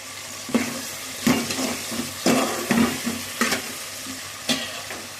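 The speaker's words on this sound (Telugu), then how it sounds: "టమాటా పెద్ద పెద్ద ముక్కలు వేయాలండి" Large tomato pieces frying in a pan with oil for a fish curry, giving a steady sizzle broken by about six scraping stirs at a regular pace, loud and close.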